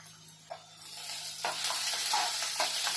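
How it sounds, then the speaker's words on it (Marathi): Onion frying in a pan with ginger, garlic and green chilli paste sizzles steadily up close, swelling louder as a spoon stirs and scrapes it several times, with no voices. "कांदा टाकून घेऊया कांदा चांगला लाल होईपर्यंत भाजायचा आहे"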